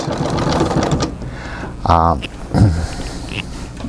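A treadle sewing machine stitching a full-sized quilt gives a quick burst of rhythmic mechanical chatter, with a shorter second run a moment later, over a steady low background hum.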